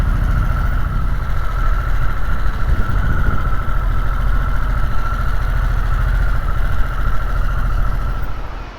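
A Harley Davidson Sportster S 1250 motorcycle idles with a steady, loud, low engine drone and an even hum on top, holding unchanged throughout with no talking.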